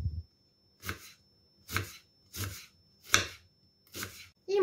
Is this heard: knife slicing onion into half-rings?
yes